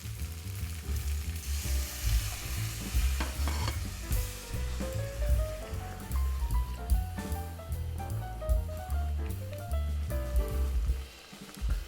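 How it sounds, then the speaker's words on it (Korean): Water poured onto soy sauce sizzling in a pot for spicy cabbage soft tofu stew, a loud continuous hiss and bubbling throughout, with faint background music and a sudden drop near the end. "간장 넣고 30초 안 돼갖고 저희들 물 넣습니다"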